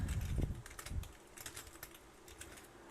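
Fingers type on a computer keyboard while writing a C# program, a quick patter of quiet key clicks after a brief low rumble at the start.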